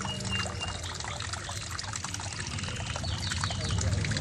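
Water drains from the outlet of a Samsung WA80U3 top-loading washing machine as it moves from wash to spin, a steady close trickle and pour running throughout with faint background sounds.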